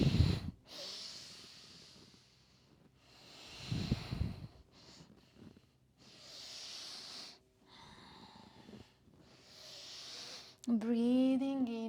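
Slow, deep breaths during a hatha yoga practice, several long audible inhales and exhales through the nose alternating with quiet pauses, close and soft, with a voice speaking briefly at the end.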